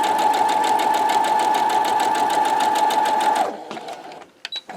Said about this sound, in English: Just sew right across there.